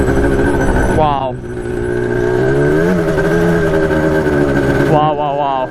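A fixed Yamaha Banshee ATV with a two-stroke engine, roaring and climbing through gear shifts up close, its pitch dropping and rising again with each change while a rider talks over it.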